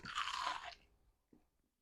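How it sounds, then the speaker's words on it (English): A loud, close crunch as someone bites into beer-battered, coconut-dipped fried shrimp, then a short quiet pause and one softer chewing crunch. "hear that crunch? It's crunchy, sweet, and it's shrimp."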